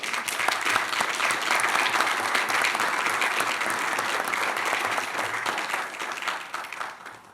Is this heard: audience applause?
yes